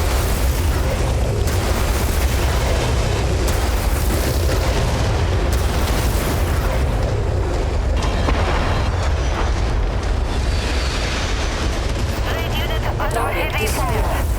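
Rumbling explosions from destroyed artillery pieces in MechWarrior 5, played in VR, roll on continuously with heavy low-end booms layered over dense battle noise for the whole stretch, with occasional voice callouts mixed in.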